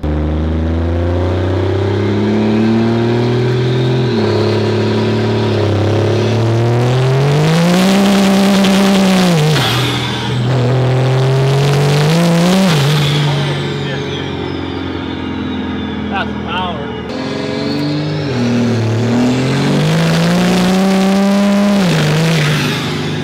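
A 2nd Gen Cummins diesel truck with an 800hp compound-turbo setup revs loudly and close by in repeated long pulls, the pitch climbing, holding and falling between bursts, with voices heard around it.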